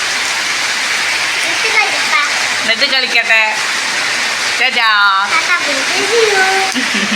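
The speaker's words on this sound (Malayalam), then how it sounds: "നല്ല മഴയാണ്" Heavy rain pours in a dense, steady roar on a rainy day during a power cut, with people talking close by over the continuous downpour.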